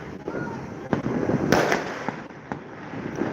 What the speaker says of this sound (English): There's still fireworks from far though.